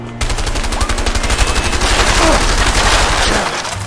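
Rapid automatic gunfire in the video game A Way Out rattles in a fast, steady burst for several seconds, loud and close, with game-like sound effects layered over it.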